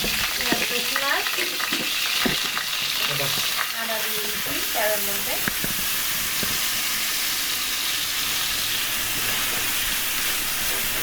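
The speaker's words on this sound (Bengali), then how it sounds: "তেল একটু গরম হয়ে উঠতেছে, পেঁয়াজ আর রসুন দিয়ে দিচ্ছে" Onion and garlic dropped into hot oil in a pan, a dense, loud, continuous sizzle with some clattering stirs in the first half, close and steady throughout.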